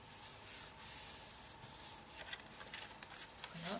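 A new crease is scored into a paper birth-announcement card, producing soft close scraping strokes that come in repeated passes, quick and uneven toward the end, with no voices.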